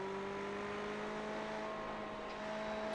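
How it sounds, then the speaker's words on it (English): Ferrari race car engine in the iRacing sim at Road America, a steady high droning tone from a distant car easing off the throttle through a turn, faint and continuous with no talk. "it sounds like a slight lift there through turn 7 for the Ferrari of Jatho"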